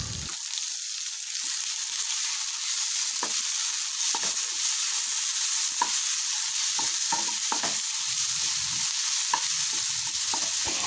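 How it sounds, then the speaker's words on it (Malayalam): Chopped medium tomato sautés in a pan for a small-onion prawn roast, sizzling loudly and steadily while a spoon stirs and scrapes with repeated clacks throughout. "തക്കാളി ഒന്ന് വെന്തിറങ്ങുന്ന വരെ നമുക്കൊന്ന് വഴട്ടി കൊടുക്കാം."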